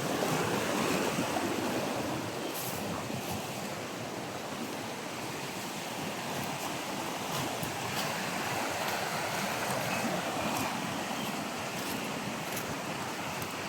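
Creek water that flows in from the sea, rushing and washing in a steady, continuous roar, with some wind buffeting the microphone and no one speaking.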